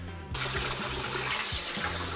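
Cold tap water pours steadily over fish fillets (trout and salmon) being rinsed in a sink before smoking, a loud, continuous rushing splash that starts abruptly and runs alone without speech.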